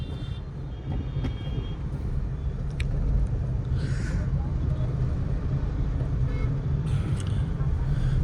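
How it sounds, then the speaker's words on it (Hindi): Heavy road traffic rumbles steadily on a busy street in Lucknow, India, with passing vehicles, a few brief high tones and faint voices mixed into the continuous noise. "और भाई देख रहे हो कितना ट्रैफिक है।"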